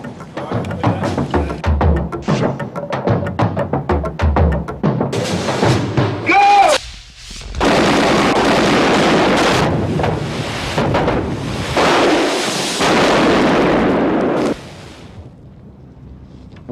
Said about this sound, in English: We have this big explosion in the main hall in the film